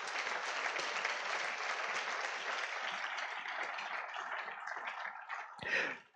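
A church congregation claps and cheers in a sustained wave of applause that holds steady and then fades near the end, with a brief louder swell just before it dies away.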